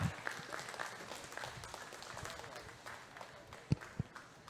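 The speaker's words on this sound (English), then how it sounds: "So let's give these exhibitors a nice big round of applause." A barn audience at a junior fair steer show applauds the exhibitors, a faint, distant spread of clapping with a few louder individual claps near the end.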